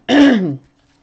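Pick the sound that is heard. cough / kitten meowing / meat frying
cough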